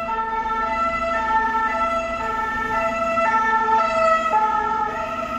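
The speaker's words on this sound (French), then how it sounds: "je laisse passer l'ambulance" An ambulance siren sounds steadily, its two-tone wail repeating loud and nearby for several seconds with a low engine hum beneath.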